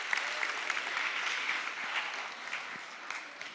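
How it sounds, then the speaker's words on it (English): An audience at an AI summit claps for a speaker coming on stage, giving a steady, moderately faint wash of applause that continues evenly throughout. "Give her a huge round of applause."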